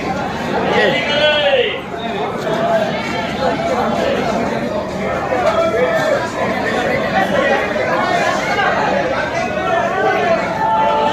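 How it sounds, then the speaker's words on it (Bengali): Busy train station platform packed with people, a thick, continuous babble of overlapping voices near and loud, with individual calls rising out of the hubbub. "এই দেখো এত লোকের ভিড়"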